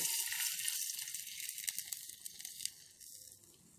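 Faint, continuous sizzling and bubbling of soy sauce boiling in a hot pan, with soft crackles.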